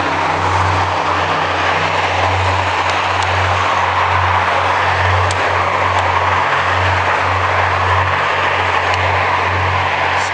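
Steady road traffic drones along a street in Victoria during a cycle tour, a loud continuous engine and tyre rumble with no voices and no breaks.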